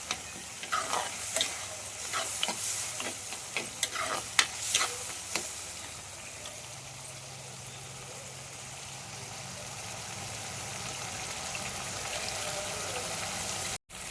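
Sliced onions with salt sauté in a pan for fish curry. A spatula scrapes and stirs in a few quick strokes early on, then a steady soft sizzle carries on alone until an abrupt cut near the end.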